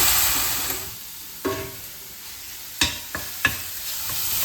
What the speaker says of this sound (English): After 3 minutes, let's add in the ginger garlic paste.